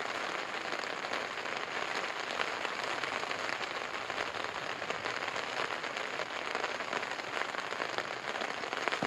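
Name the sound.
rain falling on a tent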